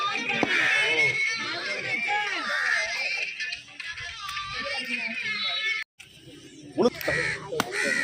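Crows caw repeatedly close by at an outdoor fish-cutting spot where a large 17 kg rock fish is being cut, the harsh calls mixed with people talking.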